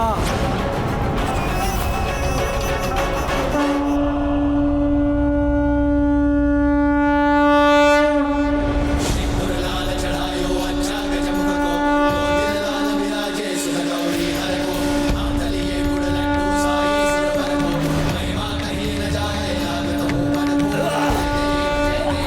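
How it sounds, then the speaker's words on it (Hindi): A conch shell blown in a TV drama gives a loud, sustained horn-like tone with rich overtones, blaring for many seconds over a rumbling, dramatic background, steady and close. "नारायण के शंख की ध्वनि है,"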